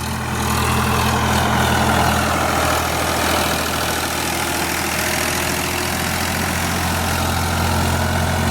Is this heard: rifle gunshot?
no